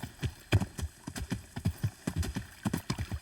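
Horse hooves clip-clop in the Kingdom Come: Deliverance video game, a steady run of distinct, evenly spaced hoof strikes at moderate loudness, with no speech.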